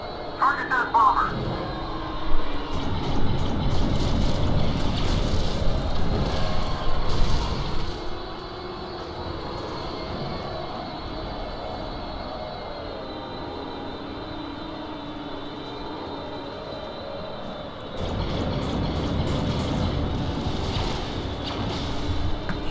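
Bomber engine roar from a Star Wars Battlefront 2 space battle, a steady loud drone with shifting hum that drops away mid-clip and returns near the end, with a voice speaking over it.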